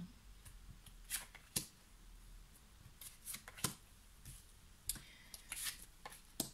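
Tarot cards shuffled by hand in a quiet room, a series of soft, papery riffles and taps in irregular bursts, close and fairly faint, with no talking.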